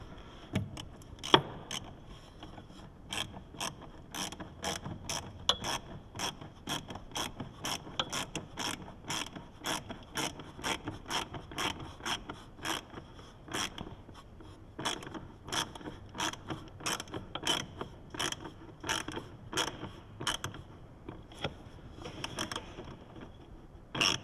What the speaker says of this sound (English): We're going to tighten this hose clamp.